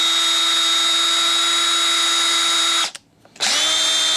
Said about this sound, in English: I'm pulling back on the drill here, so I'm pulling it into the seat.